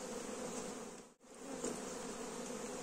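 Honey bees buzzing around an open hive during an autumn inspection before wintering, a steady dense hum close by that briefly cuts out for a moment midway, then resumes.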